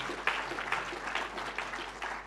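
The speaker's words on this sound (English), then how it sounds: "Give them a bit of a clap while I turn to my next page." A conference audience at a commerce and retail media summit in Sydney gives a faint, brief round of applause for a panel, thin scattered claps heard from a distance.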